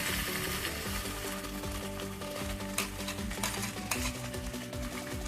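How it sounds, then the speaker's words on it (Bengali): Black pepper, tomato and green chilli paste sizzles in hot oil over ginger-garlic masala for a Bihari-style mutton curry, a dense continuous frying hiss broken by repeated scraping stirs of a spatula. "এবারে আমি এই গোলমরিচ, টমেটো, কাঁচা লঙ্কার পেস্টটা এর মধ্যে দিয়ে দিলাম।"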